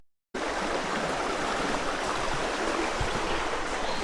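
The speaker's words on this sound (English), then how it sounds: "Got this waterfall." A waterfall flows steadily outdoors, a dense, continuous rushing roar of falling water, close and even, with no voices.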